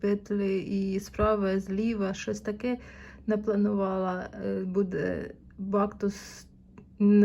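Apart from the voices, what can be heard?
No everyday noise stands out behind the speech.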